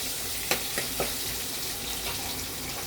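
Onion sautéing in oil in a pan with asafoetida, a soft continuous sizzle with a few light clicks of stirring, faint and without voices.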